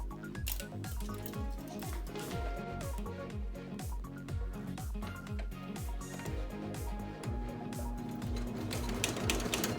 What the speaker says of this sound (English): That's how I'm going to stitch it right now.